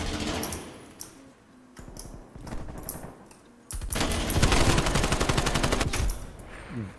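Rapid AK-74 automatic gunfire in the Call of Duty Cold War video game: clusters of shots at first, then a fast, even stream of rounds and a louder, dense sustained volley near the end.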